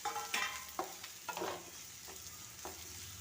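Tomatoes and other vegetables sizzle softly in a pan while a spoon stirs them, giving a quiet steady fry broken by a handful of distinct scraping strokes.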